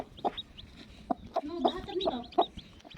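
A hen clucks softly near her newly hatched chicks, whose high, thin peeps chirp repeatedly throughout, close and clear with no talking.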